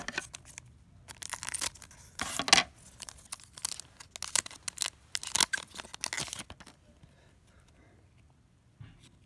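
A Japanese Pokémon booster pack from the Miracle Twins or Unified Minds sets is cut and torn open with scissors, giving close, quick bursts of snipping, ripping and crinkling foil before going quiet.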